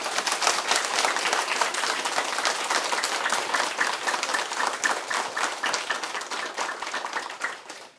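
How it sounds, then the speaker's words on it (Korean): Warm, sustained audience applause for a lecturer at a Korean humanities concert, dense clapping filling the hall at an even level for several seconds before tapering off. "뜨거운 박수 부탁드립니다."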